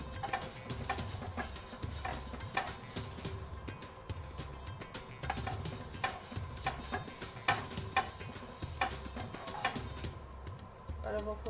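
Butter sizzling in a pre-heated frying pan while seekh kebabs are cooked, a soft steady crackle broken by repeated scraping and stirring clatter from a utensil.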